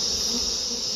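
Honey bees buzz at an open beehive, a dense, steady swarm hum close by that stays constant throughout the short moment without voices.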